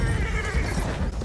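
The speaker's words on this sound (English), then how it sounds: "don't kill the horse" A horse in the video game Battlefield 1 lets out a loud, close neigh that fills the whole short moment over dense game noise.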